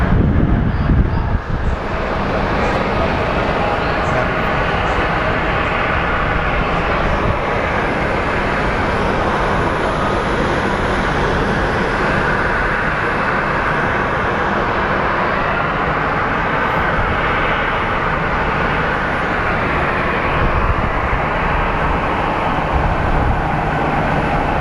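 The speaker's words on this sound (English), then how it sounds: "He's a massive plane." A large airplane roars past at Phoenix Sky Harbor International Airport, a loud, steady broadband engine rumble that holds for the full stretch with little change, close and dominant, with no voices over it.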